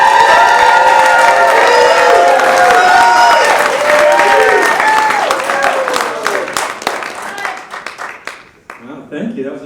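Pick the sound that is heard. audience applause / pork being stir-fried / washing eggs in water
audience applause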